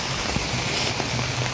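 Steady heavy rain pours down during a days-long downpour at a flooded house, a dense, even hiss with scattered drops close by and no voices.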